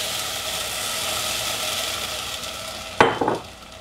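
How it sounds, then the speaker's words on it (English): Steady frying sizzle of rice in a hot pan for mushroom risotto fills the clip, then a sudden louder hiss and crackle bursts in as wine hits the pan, settling back to sizzling. "It'll sizzle a little bit"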